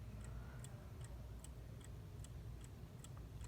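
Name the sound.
Howard Miller bracket mantel clock ticking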